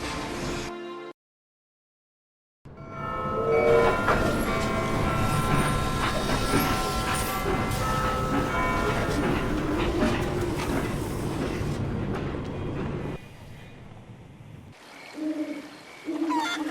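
A train running in the video game Haunted, a steady loud rumble with rattling and tonal whine that fades out, set between brief quiet gaps and short sounds at the start and end.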